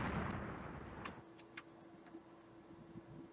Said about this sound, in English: You've got all your guns firing, so you're firing 12 guns.